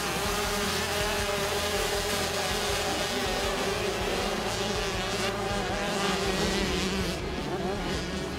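Several 65cc youth motocross motorcycles race together, a dense, continuous high-pitched buzzing roar of small two-stroke engines, loud and close throughout with shifting revs and a voice faintly mixed underneath.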